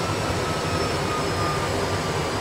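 Jet engines of an Airbus A320 in Microsoft Flight Simulator 2020 at touchdown on the runway: a steady, loud broadband roar that continues throughout, with no voices.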